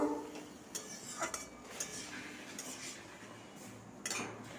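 Pumpkin greens cooking with tomatoes are stirred in a pot, producing quiet, irregular scrapes and metallic clinks of a spoon against the pot, close and soft, with no speech.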